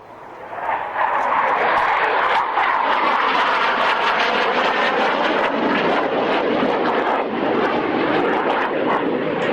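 At an airshow at Kemble Airfield in 2001, a Hawker Hunter jet passes overhead with a loud, sustained roar that swells quickly and stays strong and rushing throughout.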